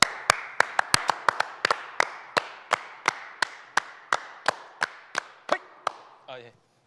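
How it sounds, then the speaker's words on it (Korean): Standing ovation clapping for 2PM on the CouchTalk show: a small group of sharp, separate handclaps in a steady rhythm, close and loud, slowing and thinning out before a brief murmur at the end. "기립박수 한번 갑니다"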